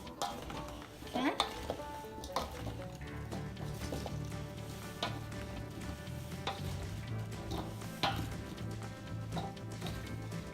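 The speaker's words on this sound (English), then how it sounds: "Now that I have all the brown sugar mixed into the apples" Apples with brown sugar get stirred in a pan, with soft scraping and clinking of a utensil against the pan over a faint sizzle, in a few intermittent strokes at moderate distance.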